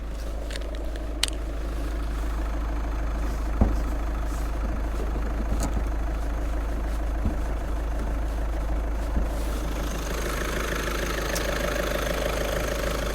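A Skoda Superb's 1.6 litre 4-cylinder turbo diesel engine idling, a steady low hum with a faint rattle, captured close and alone, with a few soft clicks and knocks along the way.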